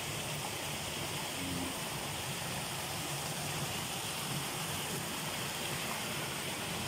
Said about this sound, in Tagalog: Ayan, ang lakas ng bukal. Doon lumalabas sa kuweba.